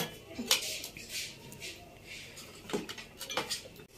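A knife slices through a pizza paratha on a plate or board, giving a few sharp clinks and scraping cuts against a background murmur of household sounds.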